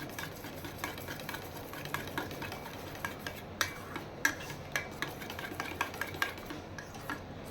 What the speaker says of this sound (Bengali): এবার দইটাকে খুব ভালো করে ফেটিয়ে নেব।